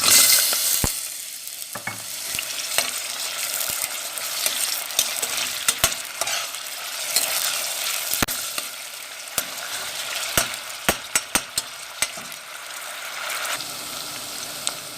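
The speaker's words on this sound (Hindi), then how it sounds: "प्याज जो है वो थोड़े थोड़े फ्राई हो चुके हैं।" Onions fry in a pot of hot oil for shahi chole, a steady broadband sizzle with frequent sharp clicks and scrapes as they are stirred, close and fairly loud with no voices.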